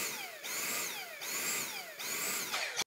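A Dyson V6 cordless vacuum fitted with a HEPA filter conversion kit runs and pulses, its high motor whine dropping and rising again in three regular cycles about a second apart, close and steady, before cutting off abruptly.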